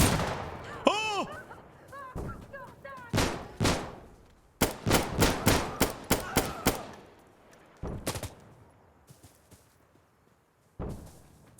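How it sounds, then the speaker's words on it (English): Gunfire in Insurgency: Sandstorm cracks in bursts of close automatic shots, rapid sharp reports in quick strings with pauses between, loud against a quiet background. "I hear bullets whipping by me"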